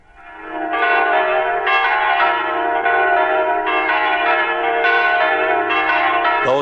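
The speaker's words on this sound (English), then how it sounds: "Those are the bells of the Church of the Holy Sepulchre in Jerusalem." Church bells of the Holy Sepulchre in Jerusalem ringing in a loud, continuous peal, several bells striking in overlapping succession with no talk.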